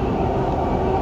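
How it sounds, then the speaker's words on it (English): A Dubai Metro train running toward Creek station, heard from inside as a loud continuous rumble of wheels on track. "The final destination of this train is Creek."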